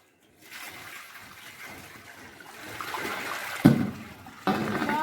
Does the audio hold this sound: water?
yes